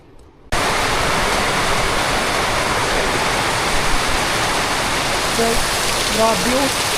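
Heavy storm rain and torrential water rushing down from a mountain make a loud, dense, unbroken roar, with brief voices breaking through near the end.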